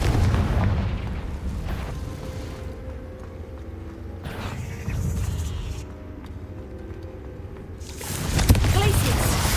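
Fiery Confringo spell blasts from Hogwarts Legacy go off as deep, booming explosions, several heavy bursts spread over the moment with rumbling tails, a voice speaking in between.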